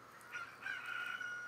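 A rooster crows at dawn in the Ocarina of Time video game, one drawn-out cock-a-doodle-doo that is fairly clear and sounds alone.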